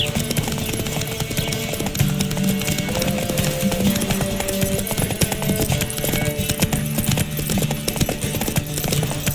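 Horse hooves in the video game Witcher 3: Wild Hunt pound in a fast, steady galloping rhythm, loud and close, with a dense rattling clatter running the whole time.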